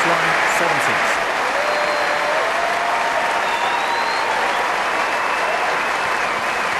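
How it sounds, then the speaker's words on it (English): Centre Court crowd at Wimbledon applauding Andy Roddick after his match win, a dense, continuous roar of clapping that holds steady throughout. "Centre court crowd applauding Roddick."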